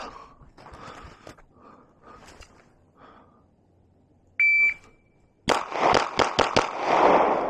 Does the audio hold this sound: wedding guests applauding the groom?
no